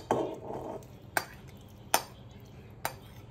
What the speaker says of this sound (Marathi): कुकरमध्ये ही धुवून घेतलेली वजडी टाकून घ्यायची आहे।